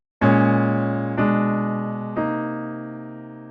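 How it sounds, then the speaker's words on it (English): A piano strikes three sustained jazz chords in turn, fully diminished passing chords, each ringing out and slowly decaying, close and clear with no talking. "In jazz, a lot of times fully diminished chords are used as passing chords."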